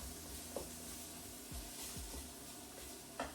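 One whole chopped medium-to-large onion sweats in a pot for a one-pot beef stew, giving a faint, steady low sizzle with a few soft spoon knocks against the pot.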